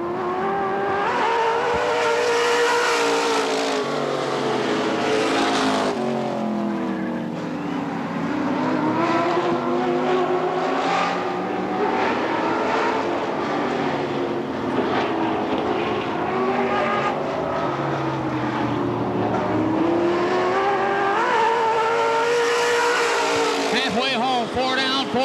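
Race cars at Tri City Motor Speedway, including the number 47 car, roar continuously through the clip, their engine drone rising and falling as they circle, under steady announcer commentary over the PA.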